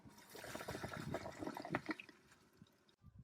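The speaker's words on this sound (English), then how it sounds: "This is probably the last flush for it." A Gerber Viper toilet flushes, heard faintly as water rushing and trickling in a steady wash that thins out and fades near the end.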